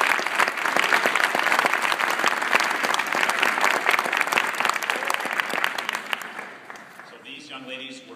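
An audience at a winter sports award ceremony applauds a team with 22 wins and a conference championship. The clapping is loud and sustained, then thins out and fades near the end.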